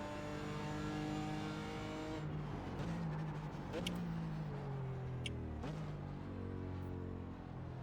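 A BMW M4 GT4 race car in the iRacing simulator revs hard, its engine note climbing and dropping through quick gear changes with crisp upshift cracks, loud and close.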